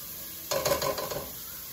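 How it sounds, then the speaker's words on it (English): Onion sweating in a pan for a seafood stew, a soft brief sizzle with faint stirring that rises suddenly and fades within about a second over a quiet background. "I'm just gonna let the onion sweat out a bit"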